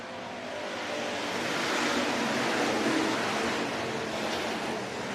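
Hobby stock race cars roar around Worthington Speedway on a restart, a broad, steady engine drone that swells toward the middle as the pack passes, then eases slightly.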